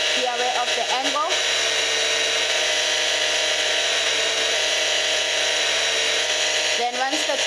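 A jewellery ring is held against a spinning polishing machine, giving a steady, loud whirring hiss that runs throughout, with brief traces of a voice near the start and end.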